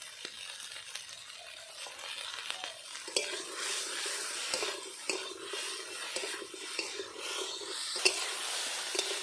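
Taro stolons fry in a pan with salt and turmeric, a steady soft sizzle under repeated scraping stirs of a spatula, close and moderately quiet.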